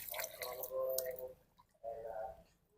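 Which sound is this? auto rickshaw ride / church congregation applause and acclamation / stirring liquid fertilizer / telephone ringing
stirring liquid fertilizer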